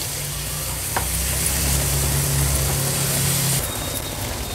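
Chopped tomatoes being stirred into hot spiced oil for Amritsari paneer bhurji give a steady close sizzle and frying hiss with a low hum underneath, easing off near the end.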